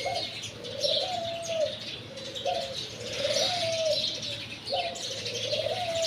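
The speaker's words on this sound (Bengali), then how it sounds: "সকালে এরকম পাখির কিচিমিচির কার ভালো লাগে" Early-morning birdsong before sunrise, with a pigeon's soft repeated coos in a steady rhythm over scattered chirps and tweets from other birds, fairly near and calm.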